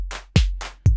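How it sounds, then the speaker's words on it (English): Two loud electronic claps from an iPad drum sequencer, each led by a two-hit ratchet burst, with a thumping low kick under them, evenly spaced, with no talk. "2 ratchets on this second clap here"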